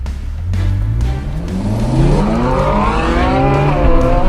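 A Ferrari 458 in launch mode revs hard and climbs steeply in pitch as it pulls away, close and loud. Faint tire noise sits under the engine's rising roar.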